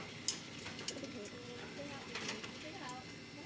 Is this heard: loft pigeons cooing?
yes